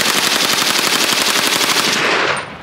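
A carbine fires a rapid, sustained automatic burst of loud close shots for about two seconds, then stops, with no voices.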